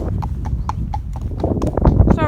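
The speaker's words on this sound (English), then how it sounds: "horse is picking up pace here" A horse's hooves clip-clop in a steady, quickening rhythm close by, loud and distinct, with a person talking over the hoofbeats.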